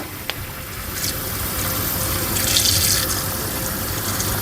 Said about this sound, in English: I'm going to pre-fill the sink with water